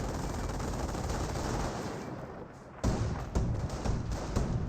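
Dense Company of Heroes battle gunfire pours onto a scope rifle squad: a continuous loud roar of rifle and machine-gun shots, then sharper distinct cracks and thumps breaking through.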